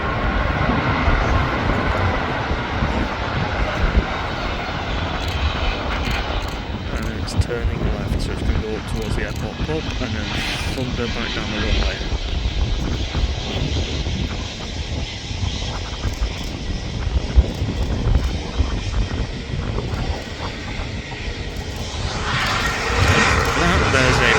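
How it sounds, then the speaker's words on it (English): A Jet2 Airbus A330 airliner taxis at Manchester Airport, its steady broadband engine roar holding across the whole stretch while a person talks over it. "Here comes the next one, and it's taxi out, Jet 2 A330."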